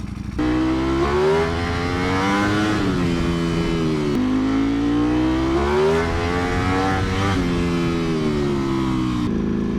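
A Ducati Panigale V4R motorcycle revs hard as its cold rear tire spins, producing loud, close engine notes that rise and fall in several sweeping surges.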